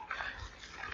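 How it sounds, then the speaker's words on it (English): A dog whimpers and yips softly a few times at close range, faint and brief, with no talk over it. "I got to get the dog in the yard."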